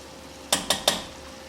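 Three quick clinks of a utensil against a pot or bowl, evenly spaced and close, as basil and Parmesan are stirred into a baked rotini sauce; otherwise quiet.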